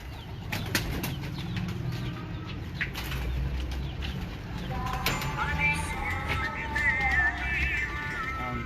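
Flock of breeder pigeons flaps wings in flight nearby, a continuous flurry of rapid wingbeats with sharp clapping bursts, a few bird calls and whistles over a steady outdoor background.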